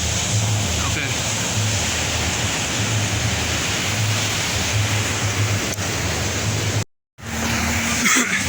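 Surf at Copacabana beach washing in as a broad, steady roar, loud and close, with a brief dropout near the end.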